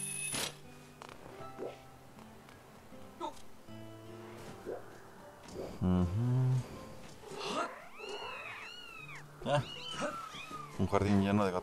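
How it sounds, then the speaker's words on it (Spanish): Cats meowing in a garden full of cats in Zelda Skyward Sword HD, several drawn-out meows over game music and sound effects. "Un jardín lleno de gatos."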